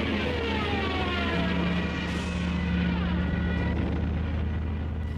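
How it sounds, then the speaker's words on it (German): Howling wartime dive bomber aircraft diving during the German invasion of Poland, a loud continuous droning whine with a long sustained tone, steady and close throughout with no speech. "Und das nächste Flugzeug kam runter und heulte auch so."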